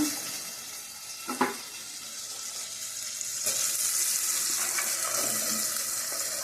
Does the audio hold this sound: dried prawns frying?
yes